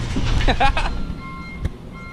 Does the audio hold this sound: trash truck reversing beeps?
yes